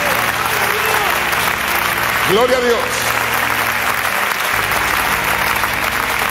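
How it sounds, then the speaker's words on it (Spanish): A church congregation claps loudly and steadily throughout as the crowd applauds, while a voice briefly calls out over the clapping. "Dale un aplauso al Rey con todo tu corazón"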